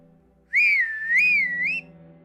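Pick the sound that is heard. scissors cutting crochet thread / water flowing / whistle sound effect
whistle sound effect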